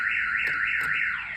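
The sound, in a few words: car alarm on a 2006 Chevy Cobalt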